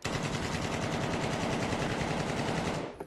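An AK-47 rifle fires a continuous rapid burst, loud and dense, sustained for about three seconds before cutting off abruptly, with no talk.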